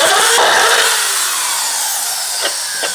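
A Dremel rotary tool cuts into drywall with a loud, high-pitched whine and grinding that slowly drops in pitch, steady and close, with no speech.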